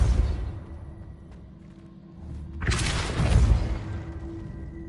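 A Depulso spell cast in Hogwarts Legacy bursts out as a loud whooshing blast after a quieter lull, swelling into a crashing, rumbling tail that slowly fades.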